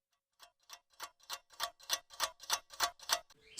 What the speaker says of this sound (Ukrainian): цокає годинник